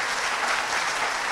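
Dense, sustained applause from an audience at a school ceremony, even and loud throughout the short stretch.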